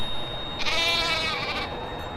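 A goat bleats once in a drawn-out, wavering call, close and clear over a faint background hiss, with no voices.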